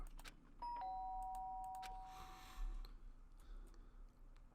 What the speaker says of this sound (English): The sharp sound of the doorbell pierced my sleepy haze